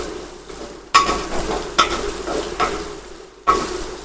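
Bitter gourd curry fries in oil in a pan, a steady sizzle broken by several sharp scrapes and clatters of a spoon stirring the vegetables, close and fairly loud with no talking.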